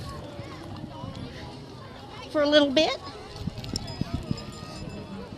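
Horses walk in the 2014 Mountain Home Christmas parade, their hooves clopping faintly beneath nearby conversation and crowd chatter.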